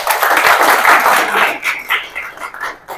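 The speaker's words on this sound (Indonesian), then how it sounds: "Wih, mantap. Tepuk tangan." Classroom applause: a crowd of students clapping hands briskly and fairly loudly, then thinning into scattered, uneven claps that taper off.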